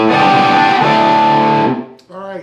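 Electric guitar through heavy distortion plays a riff, loud sustained chords ringing for over a second, then cutting off before a short, cleaner note follows.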